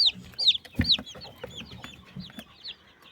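Newly hatched chicks cheep in a rapid series of high, sliding peeps close by, with some softer low rustling and clucking underneath.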